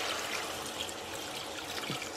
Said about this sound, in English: The chicken is beautiful and brown, full of so much flavour, so we'll pour water over.